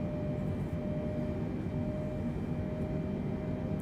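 A steady, low engine drone fills a Boeing 747-8i in British Airways livery during its climb in Microsoft Flight Simulator 2020, with faint tonal whines above a constant rumble and no voices.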